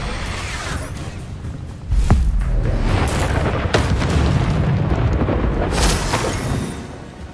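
Spell blasts from the Expulso curse in the Hogwarts Legacy video game, a deep booming explosion that swells around two seconds in and rumbles on, with further bursts and whooshes layered over sustained game noise.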